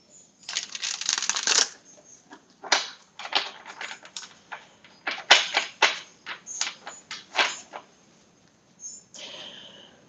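Rapid bursts of tarot cards being riffled and shuffled, crisp papery flutters coming in quick clusters with short pauses, close and fairly loud.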